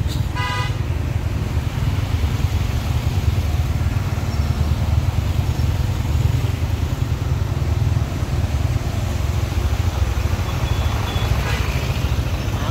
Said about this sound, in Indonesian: Ini dia bosku, terjadi kemacetan panjang.